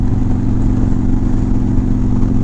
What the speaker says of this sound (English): We're gonna have to compare bobber exhaust.